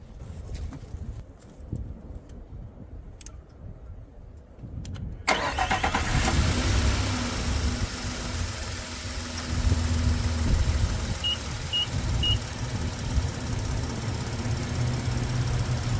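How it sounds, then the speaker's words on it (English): A vehicle engine cranks and catches after a few seconds of quiet background, then settles into a steady, even idle that hums on to the end. "So let's start the vehicle up."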